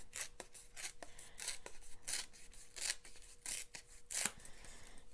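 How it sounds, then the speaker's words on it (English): Paper being torn by hand into a strip of orange pumpkin-coloured envelope scrap for a Halloween treat pocket craft, a series of short, close, dry rips and rustles repeating roughly every half second with no talking. "let's give it a little bit of a tear"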